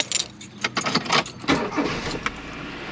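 A Nissan Cefiro catches and fires up inside a hot garage, a few sharp bursts of cranking and ignition giving way to an uneven idle, close and fairly loud with no one talking.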